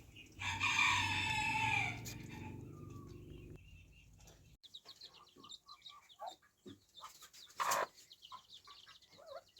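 Backyard hens cluck and call outdoors while bathing, a loud burst of rooster-like clucking early on, then scattered clucks and soft rustling, with one sharp squawk near the end.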